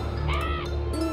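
A crow caws in the video game Pumpkin Jack, a couple of short raspy calls over a steady low game hum and music, close and clear.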